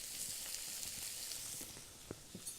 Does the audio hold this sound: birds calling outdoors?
no